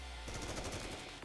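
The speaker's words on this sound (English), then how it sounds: "Gunshots and explosions erupt everywhere." Rapid gunfire and explosions from the video game NIKKE crackle in a dense, continuous barrage, loud and close, with no talk over them.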